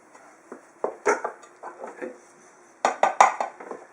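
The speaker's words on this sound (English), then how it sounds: "So I toss the stuffing in the cheeses. Until it's nice and combined and mixed together." Mushroom stuffing being tossed with cheeses in a bowl gives irregular clinks and scrapes of a utensil against the dish, with clustered bursts of taps and a quiet pause between them.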